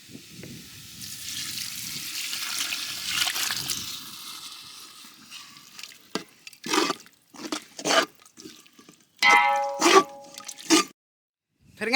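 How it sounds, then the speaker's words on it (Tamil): Water poured into a cooking pot for vatha kuzhambu with dried brinjal vathal: a steady splashing pour for several seconds, then scattered drips, splashes and clinks of utensils. "தேவையான அளவு தண்ணி ஊற்றிக்கலாம்."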